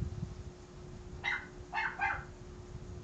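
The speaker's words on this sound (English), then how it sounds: "I'm not going to see what she's barking at." A pet dog barks three times, sharp short barks spaced across the second half, moderately loud against a steady low hum with no talking.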